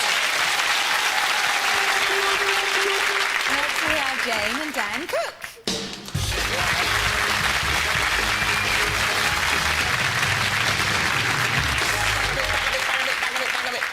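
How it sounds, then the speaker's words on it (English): A TV game-show studio audience applauds, with a broad, loud roar of clapping that briefly dips mid-way, then resumes as a host's voice announces the next contestants over it. "Give a nice round of applause, folks"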